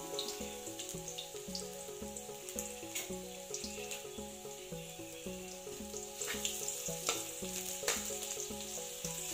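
Squid dish ingredients sizzle and fry in hot oil for a budget home-cooked meal, a steady close crackling sizzle with stirring clatter throughout, no talking.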